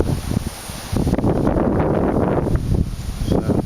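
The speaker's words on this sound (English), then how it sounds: "So, you can hear the wind. It is strong. It's like gusting up to 30 miles per hour." Strong, gusting wind from Hurricane Isaac in southern Alabama roars and buffets the microphone, surging louder after the first second and staying as a steady, rushing blast with no talk.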